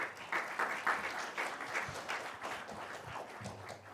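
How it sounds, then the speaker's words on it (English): Audience applause fills a day-long ESG summit hall, a steady patter of many hands clapping close by with no voices over it, holding at an even level before tapering slightly. "A round of applause for the entire NHRD team."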